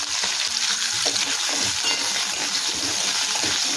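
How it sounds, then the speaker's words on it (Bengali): Potato pieces fry in hot mustard oil with nigella seeds and slit green chillies, a loud, steady close sizzle with stirring scrapes and light clinks throughout. "কিছুক্ষণ সময় নিয়ে আলুগুলো হালকা করে ভেজে নেব।"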